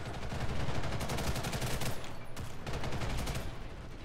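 Sustained automatic fire from a futuristic M4-style rifle in a shooter video game, a dense, loud rattle of rapid shots running almost without a break, with one short pause partway through.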